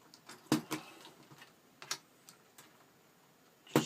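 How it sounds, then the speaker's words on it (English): Small plastic parts of a Tamiya Challenger 1 tank model are snipped off their sprues, giving faint scattered clicks and sharp snaps up close in a quiet room, with a louder snip near the end. "So we'll just cut all these parts out,"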